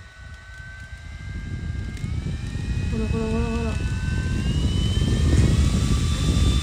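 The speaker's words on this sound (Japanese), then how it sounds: "ここのダイヤル回したらほらここの風量どんどん上がってってるの分かる" A battery-powered handheld fan blows steadily, its whirring airflow growing louder and stronger as the speed dial is turned up, with a voice speaking briefly over it.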